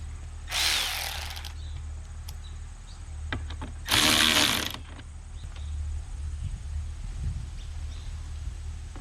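A power drill drives self-tapping screws while a replacement radiator is fitted to a Nissan Altima, with two short, loud whirring bursts separated by a quiet pause, close up over a steady background hum.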